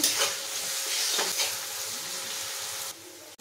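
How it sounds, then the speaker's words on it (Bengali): Cashews and raisins frying in a pan during fried rice preparation, a steady close sizzle with occasional stirring scrapes that drops off abruptly near the end. "কাজু কিশমিশটাও ভেজে নেব।"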